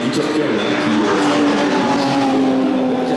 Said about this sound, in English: Heritage Touring cars on the track now.